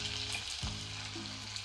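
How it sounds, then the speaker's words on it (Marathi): Mustard seeds crackle in hot oil for a tempering, making a close, continuous frying sizzle with a brief stirring scrape partway through, with no talking. "मोहरी मस्त तडतडली की जिरं, म्हणजे फोडणी कशी ना खमंग बसली पाहिजे"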